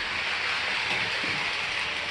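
Model train running along the main line of a layout, a soft steady hiss and rumble with faint track clatter, continuous and fairly quiet.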